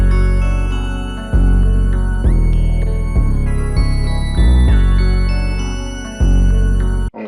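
Light bell tones are layered over a looping MPC hip-hop beat with a lead sound, giving a bright chiming texture that repeats in regular bars and plays loud and alone.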